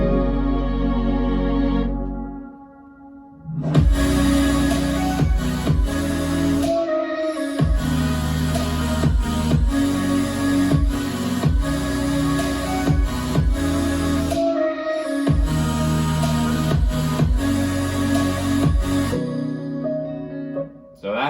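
An emotional future bass track plays its build-up into the drop, with dense layered synths and heavy bass punctuated by rhythmic gaps and short breaks, loud and full throughout.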